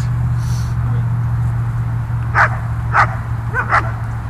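A dog in decoy bite training gives four sharp barks at moderate distance, the last two close together, over a constant low hum.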